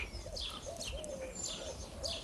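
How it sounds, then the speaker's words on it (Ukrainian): Small birds chirp and tweet in short repeated calls at a moderate distance around a garden plot after rain, over a soft outdoor background. "Хтось там чвірінькає."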